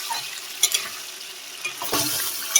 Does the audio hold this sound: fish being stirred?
yes